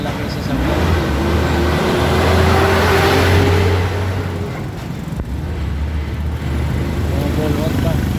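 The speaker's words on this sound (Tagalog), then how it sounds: "stuck na po sa C5. Traffic po." Heavy road traffic crawls along the C5 road among large vehicles, with close engine drone and a vehicle rumbling past at mid-clip, while people talk in between.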